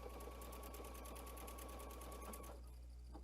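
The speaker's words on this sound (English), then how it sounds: "So I'm going to let it start to sew" A sewing machine runs at a fast, even stitching rhythm for a few seconds and then stops, heard close and alone while making 8-way stitches for a ribbon embellishment.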